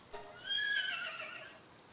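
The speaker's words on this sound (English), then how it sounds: "They just sound like a regular horse." A horse-like neigh from the electric horse Univolt in the video game Palworld, a single clear whinny with a rising, wavering pitch that fades out over about a second.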